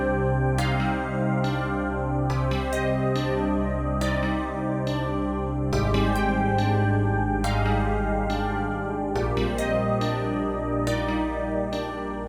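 A MIDI melody on a harsh FL Studio stock synth, bright buzzy repeated notes over a sustained low line, steady and loud throughout, unprocessed and without voices.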